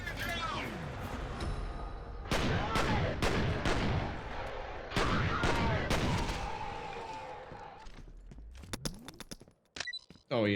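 Pistols fire in the video game F.E.A.R., a series of sharp, loud gunshots in bursts, some close together, with heavy echoing tails and scattered clatter that trails off near the end.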